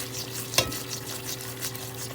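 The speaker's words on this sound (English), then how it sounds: "So I'll just leave that boiling, but keep watching it." Sugar cooking to a deep caramel in a pan, boiling with a steady soft bubbling and sizzling hiss and one brief sharper tick partway through, close and moderate in level with no talking.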